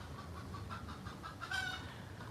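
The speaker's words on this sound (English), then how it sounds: "That's the sound of the hen celebrating as she lays an egg." A hen clucks in a quick, excited run after laying an egg, the repeated calls faint and somewhat distant over a low background hum.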